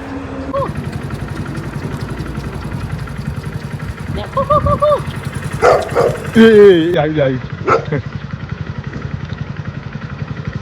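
A dog barks and yelps a few times close by, over a puttering engine running steadily in the background, with people talking near a cattle shed.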